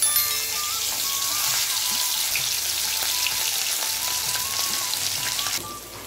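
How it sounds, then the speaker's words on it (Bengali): Bhetki fish frying in a pan, giving a loud, dense, continuous sizzle like heavy rain that holds steady and eases slightly at the end, with no voices. "আমার মাছ একটি ভাজা হয়ে গেছে, আমি উল্টে দেব।"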